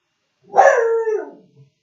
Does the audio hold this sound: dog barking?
yes